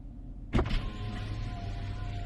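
A driver's power window on a car slides down, its electric motor starting with a short clunk and then humming steadily under the quiet cabin ambience, close by with no voices.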